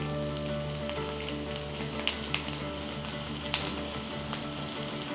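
Stuffed brinjals with onions and ginger-garlic paste frying in hot oil, a steady close sizzle throughout with a few brief crackles and pops.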